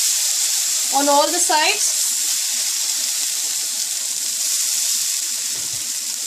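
Rava dosa batter hitting a hot pan on a high flame gives a steady, even sizzle throughout, with a brief voice speaking over it near the start.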